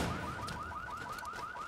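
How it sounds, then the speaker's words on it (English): A car alarm blares in a garage during a World War 3 gameplay session, a steady repeating warble of rising electronic chirps that fills the whole clip at a constant level. "I like how we can set off the alarms in the garage too"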